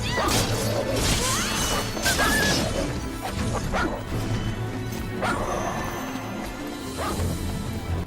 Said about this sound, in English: Oh, there's another dog.